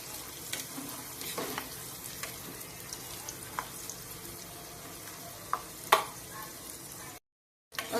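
Spices with turmeric and curry leaves fry for pulihora, a soft steady sizzle in a pan broken by a few sharp pops and spatula scrapes, fairly quiet and heard without talk, with a short gap of silence near the end.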